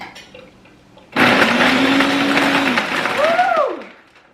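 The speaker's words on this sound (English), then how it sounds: "this is the Ninja and it's the best blender ever" A Ninja blender roars to life, churning a frozen margarita with a loud, steady grinding whir for about two and a half seconds before spinning down; a voice is faintly heard beforehand.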